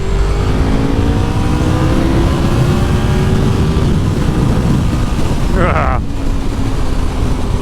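A Honda VFR750 motorcycle with 100k miles pulls hard on an open national-speed-limit road, its engine droning loudly and steadily in the mid-range with rising tone and heavy wind rush throughout.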